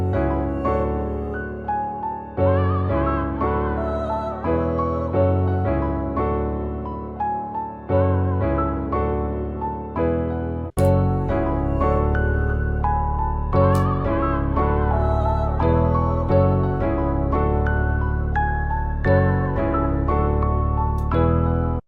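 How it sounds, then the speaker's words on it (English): Produced beat built from a piano melody with vocal chops and vocal runs layered over it, a dense rhythmic loop of chopped stabs that thickens with heavier low end about halfway through. "Putting it in context with the original piano melody,"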